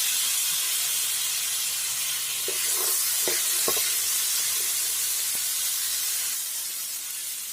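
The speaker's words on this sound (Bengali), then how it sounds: "পেঁয়াজ আর কাঁচা লঙ্কা ভালো করে ভেজে নেব" Onion and green chilli fry in a pan for chana fry, making a strong, hissing sizzle with a few light spatula taps in the middle, close and steady throughout.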